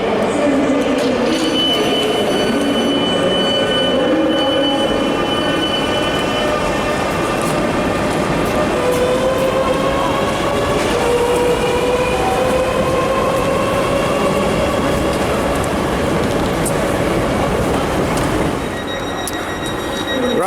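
London Underground train running loudly and steadily, wheels squealing and rails clattering throughout with a continuous metallic rumble, close up from inside or beside the carriage.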